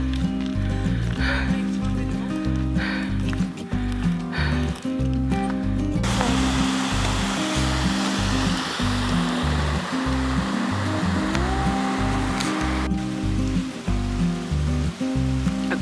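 A river flows past a forest on the West Highland Way in Scotland, a steady broadband rushing of water running close and continuous, with a low mechanical hum underneath throughout.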